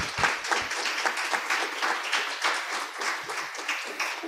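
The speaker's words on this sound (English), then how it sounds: "I think you can hear the great applause here on site" Audience applause after an opening keynote talk on brain-computer interfaces, a steady patter of many hands at moderate distance, with no voices over it.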